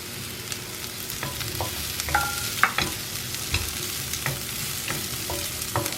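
Mushrooms frying in a pan with pepper, stirred now and then, giving a steady close sizzle broken by scraping and clinking utensil strokes, with no voices.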